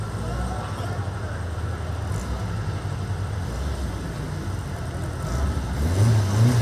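Volkswagen drag cars in the Street Volkswagen category final round at a drag strip, engines roaring steadily and loudly throughout, rising to a harder revving surge near the end, with crowd and track noise mixed in.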